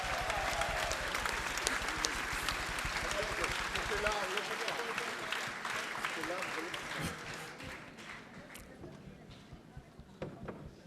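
A choir-concert audience claps in a dense, sustained round of applause that is loud at first and gradually thins and fades, with voices mixed in.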